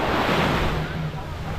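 Surf at Blue Lagoon beach in Pagudpud, Ilocos Norte rolls in as a steady, broadband wash, with wind buffeting the microphone and no clear breaks in the roar.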